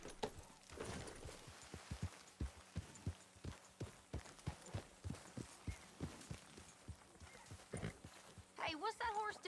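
A horse in the Red Dead Redemption 2 video game gives a regular, plodding clip-clop of hooves, evenly spaced and fairly close. A short whinny comes near the end, and speech runs faintly in the background.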